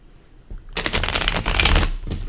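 A tarot deck being split and shuffled by hand, a short burst of crisp riffling card flutter starting after a quiet half second and continuing to the end, close and fairly loud.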